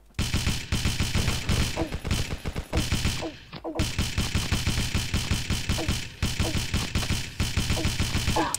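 Rapid automatic gunfire in the mobile shooter game Pixel Gun, loud sustained bursts of shots with one brief pause midway.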